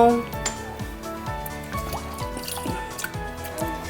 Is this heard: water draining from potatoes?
yes